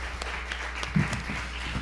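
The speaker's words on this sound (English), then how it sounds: "Let's give a round of applause to our true parents." Congregation at a Sunday church service gives a round of applause, a soft, even patter of clapping heard from some distance with a low steady hum beneath.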